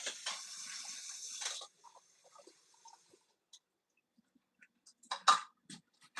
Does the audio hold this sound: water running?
yes